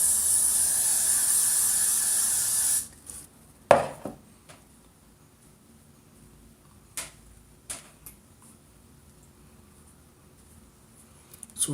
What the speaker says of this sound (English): And what I'm going to do is I'm going to spray it down.